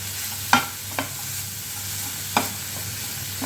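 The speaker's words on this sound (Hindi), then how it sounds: "अब हमें इन सबको 1 से 2 मिनट के लिए हमें इस तरह से चलाते हुए भून लेनी है" Spring roll vegetable filling stir-fries over a high flame: a constant close sizzle broken by a few sharp spatula knocks against the pan, and no one speaks.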